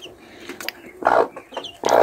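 Young laying-hen chicks raised at home cluck and peep in short bursts, close by, with louder calls near the end and no talking.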